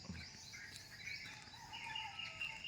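Birds chirping and calling in the early morning around 5 a.m., light high tweets scattered over a quiet, faint outdoor background with no talking.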